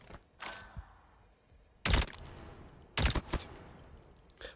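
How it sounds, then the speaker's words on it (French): Bullet impacts from a Type 19 gun in a video game: two loud, sharp cracking hits about a second apart, each with a brief rattling tail, plus a few fainter thuds earlier against a quiet background. "on commence avec l'impact des balles."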